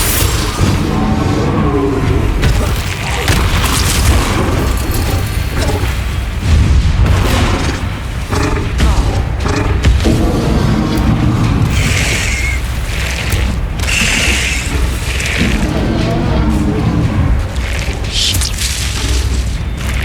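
Repeated booming spell blasts from Bombarda in the video game Hogwarts Legacy, loud and dense over a steady combat soundtrack, with crackling bursts and impacts throughout a twenty-second fight.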